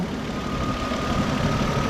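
Car engine running with the hood open, a steady idling hum and low rumble heard close by with no change in pace.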